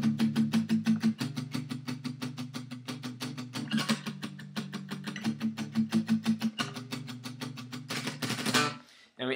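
A guitar plays a power chord progression from a song, strummed in a steady, rapid chugging rhythm with chord changes. It is close and loud, then lets the final chord ring out briefly before stopping.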